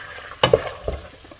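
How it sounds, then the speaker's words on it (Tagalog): Chopped onion hitting melted butter in a pan for a home-style seafood soup, giving a sudden loud sizzle followed by a few stirring scrapes and a fading frying hiss. "after the butter melted, what's next? We will put the onion."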